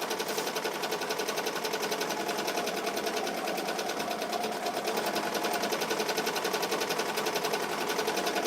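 A Ricoma EM-1010 multi-needle embroidery machine stitching, a rapid steady mechanical chatter that runs loud and continuous at close range, with no voices.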